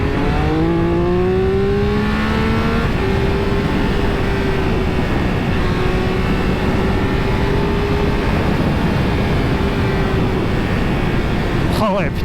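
A Triumph Speed Triple 1200 RR motorcycle accelerates hard on an expressway, its engine pitch climbing through gears under strong wind roar, heard from the rider's position with brief talk over it.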